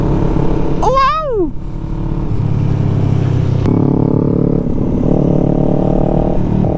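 Yamaha MT-03 motorcycle engine revving loudly up close, with a rising-and-falling whine early on and a sharp crack partway through, then a steady rumbling idle under intermittent talk.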